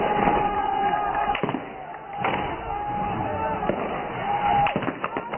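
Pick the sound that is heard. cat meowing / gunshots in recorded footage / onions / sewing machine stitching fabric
gunshots in recorded footage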